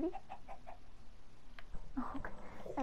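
A chicken in Minecraft clucks in short, bright bursts: a quick string of four or five soft clucks, a pause, then a louder cluster near the end, with no voice over it.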